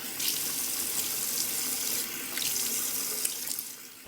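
Lukewarm water runs steadily from a sink tap while a face is rinsed, a close continuous splashing hiss that holds through the whole stretch with small surges and no talking.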